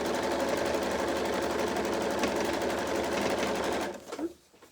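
A sewing machine stitches a quilt in one continuous, fast, close mechanical whir, then slows and stops just before the end.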